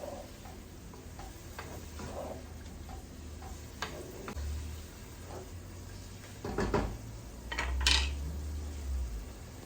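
Beef strips with paprika being stirred in a pan, irregular clinks and scrapes of a spoon against metal with a few louder knocks toward the end, close by, with no talking.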